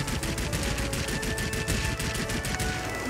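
Warplane machine guns in World of Warplanes firing in a continuous rapid rattle that holds loud and steady throughout, with a faint engine tone underneath and no talking.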